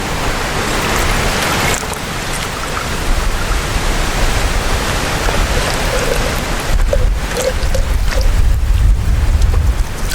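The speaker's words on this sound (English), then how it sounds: "You can see how windy it is, the water's getting blown away." Strong wind roars across the microphone in a steady broadband rush, with heavier low buffeting gusts toward the end.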